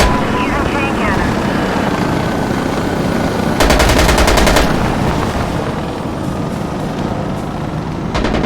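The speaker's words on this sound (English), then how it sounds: "Using chain cannon." A gunship's chain cannon fires in Insurgency Sandstorm, a loud rapid burst of about a second over the constant heavy thrum of the helicopter rotor and engine.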